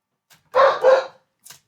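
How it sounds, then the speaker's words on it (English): A dog gives two quick, loud barks close by, followed by a faint short yip, against otherwise silent surroundings. "Sorry about the dogs."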